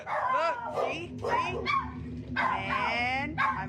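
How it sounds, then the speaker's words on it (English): Dogs bark and yip close by in a rapid series of sharp, excited bursts with whimpering pitches, while a person talks over them. "Ignore my dogs."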